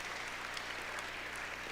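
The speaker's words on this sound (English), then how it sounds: "Give a round of applause for that." A short burst of quiet, distant applause, a soft continuous wash of clapping from an audience at an annual investiture dinner and ceremony.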